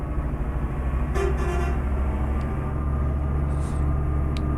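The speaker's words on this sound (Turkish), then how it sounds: "Mükemmel ya. Kornaz harika." A Magirus M2000 truck horn in Euro Truck Simulator 2 sounds over a steady engine drone, with a brief toot and another short honk later, all close and fairly loud.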